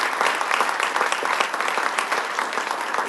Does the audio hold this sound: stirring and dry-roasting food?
no